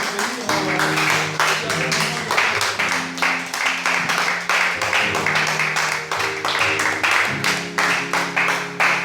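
A church congregation claps steadily in rhythm to welcome the pastor, the sharp even claps repeating over sustained music with voices mixed in.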